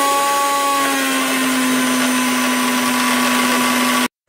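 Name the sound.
blender beating eggs with salt and green chili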